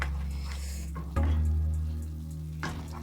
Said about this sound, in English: So my sauce has simmered for a minute.